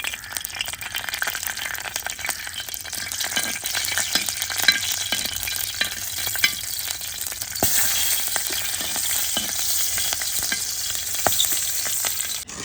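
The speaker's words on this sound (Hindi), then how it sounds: "तवे पे घी डाल दिया और मिर्चों को यहाँ पे मैंने तलना है।" Green chillies fry in ghee on a hot griddle, giving a close, continuous crackling sizzle dotted with small pops and occasional scraping stirs, no voices over it.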